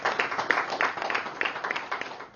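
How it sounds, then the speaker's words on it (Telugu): Audience clapping for a couple at a gathering: uneven, moderately loud applause with distinct claps pulsing through the whole stretch, muffled and somewhat distant. "వారి దంపతులకి గట్టిగా చప్పట్లు కొడదాం"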